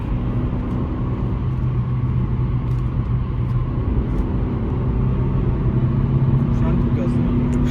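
A Fiat Egea Cross with the 1.4 Fire petrol engine driven at full throttle, its engine holding a steady, loud, droning hum under continuous road rumble from inside the cabin.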